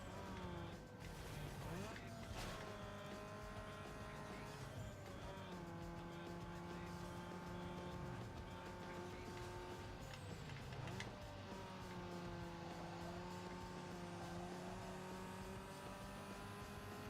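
Race car engines from the video game Need For Speed Underground 2, in an endurance race, drone steadily with shifting revs and brief tire noise, a continuous, fairly quiet game mix with no speech over it.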